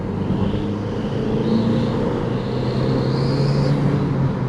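An Audi TT engine pulls in third gear with a steady, loud drone and a slowly rising tone, heard from inside the car without any talk.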